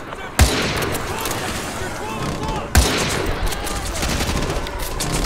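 Gunfire in Modern Warfare 2 Campaign Remastered, with two sharp, loud rifle-like reports about two seconds apart, each followed by a dense wash of battle noise and rumble.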